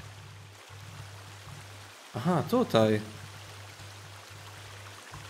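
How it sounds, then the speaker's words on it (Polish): Steady rushing water pours continuously throughout in the game The Forest, with someone speaking briefly over it in the middle. "Gdzie tak się woda leje, że jest aż tak głośno?"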